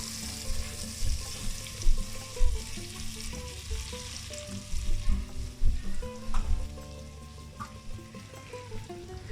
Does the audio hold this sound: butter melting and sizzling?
yes